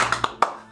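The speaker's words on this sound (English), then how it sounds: "A single unified clap from the onlookers follows this greeting." A small group of onlookers claps, giving a few quick separate hand claps close together rather than one unified clap, each sharp and close.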